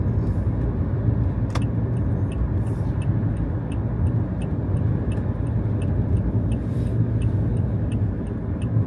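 Steady motorway traffic in New Zealand with big trucks, heard from inside a moving vehicle as a continuous low road roar, with a soft repeating ticking throughout.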